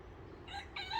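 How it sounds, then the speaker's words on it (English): A rooster crows from a flock of chickens that have come down to say hello, a short rising harmonic call at moderate distance over a low background hum. "Chickens have come down to say hello."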